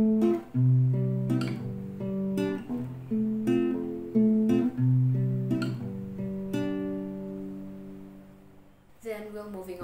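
Fingerpicked acoustic guitar plays a verse pattern, each bass note followed by higher notes plucked together by index, middle and ring fingers, in a steady, clear rhythm close up before a short pause and a strum at the end.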